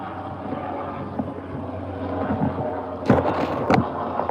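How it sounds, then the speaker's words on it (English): A low, steady engine drone from a helicopter passing overhead, rising briefly in roar near the end, with wind noise over the microphone. "Let me let this airplane go by, this helicopter."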